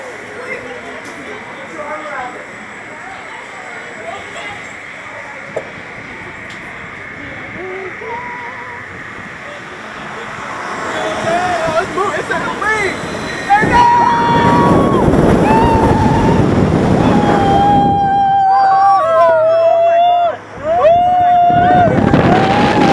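Sky Rocket launched roller coaster at Kennywood firing off from the station, a rising loud rush of wind and rumbling track noise that swells and holds, with riders shouting over it from the front seat.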